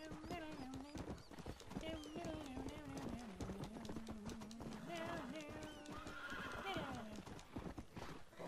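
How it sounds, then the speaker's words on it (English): Horse in the Red Dead Redemption video game, hooves clip-clopping in a rapid steady gallop with repeated neighs and whinnies, while someone talks over the action. "Get on the horse."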